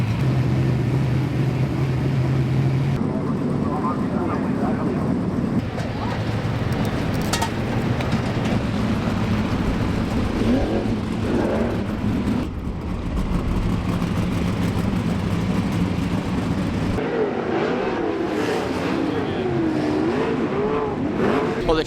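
Race cars revving and running on a wet track at Central Motor Speedway in the rain, a loud, continuous engine roar with rising and falling revs throughout.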